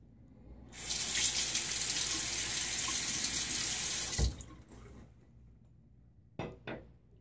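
A tap runs hard and steady for a few seconds as a safety razor is rinsed beneath it, then the flow cuts off, a thump follows, and two brief splashes and clinks close it out nearby.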